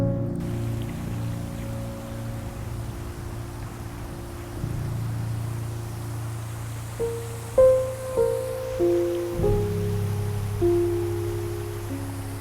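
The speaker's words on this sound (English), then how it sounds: "It's a very nice waterfall." A waterfall along a river on the Wonderland Trail gives a steady broadband rush. A few low tonal thuds and hums come in partway through.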